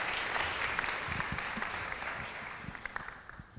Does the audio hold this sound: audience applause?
yes